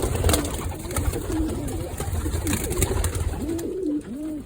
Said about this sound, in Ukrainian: Голуби сидять на яйцях.